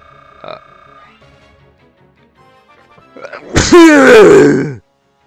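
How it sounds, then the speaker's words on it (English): A loud, close sneeze bursts out after a couple of seconds of near silence, with a strained, drawn-out vocal tail. "I gotta sneeze"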